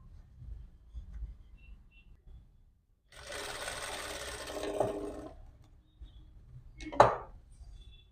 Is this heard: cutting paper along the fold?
no